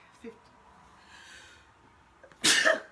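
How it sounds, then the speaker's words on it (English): A sharp, loud sneeze bursts out near the end, preceded by a few faint breaths and quiet rustling. "There's never just one sneeze."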